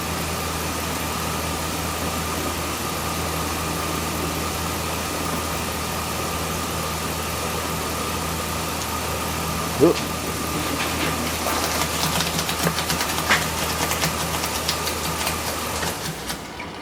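A Chevrolet Silverado pickup engine idles steadily with a low, constant hum during a transmission fluid flush, then a burst of hissing and rattling noise rises near the end.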